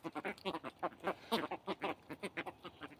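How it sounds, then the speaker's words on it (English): Birds, probably ducks, call outdoors in a quick series of faint, rapid quacking notes, distant and fairly quiet. "I guess y'all be getting a view of some birds."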